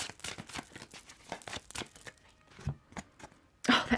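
Tarot cards shuffled by hand, a run of quick papery riffles and soft slaps close to the mic, with a louder burst of handling at the end.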